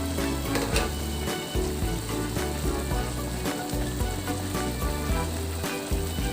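Chicken adobo simmering in a covered pot with chili being added, a steady sizzling and bubbling that runs continuously at close range with no talking.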